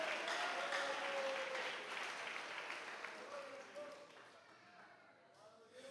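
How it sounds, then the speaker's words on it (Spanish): A church congregation at a Spanish-language youth missionary service applauds for Jesus, a dense clapping that starts full and gradually thins out while a voice keeps talking underneath. "Denle un fuerte aplauso a Jesús"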